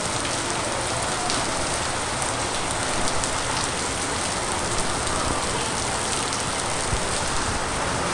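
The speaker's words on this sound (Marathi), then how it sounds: "एकदम खतरनाक पाऊस पडतोय" Heavy downpour in the Konkan during monsoon showers, a dense, steady roar of rain hammering surfaces, loud and continuous with no pauses or voices.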